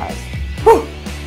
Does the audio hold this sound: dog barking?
yes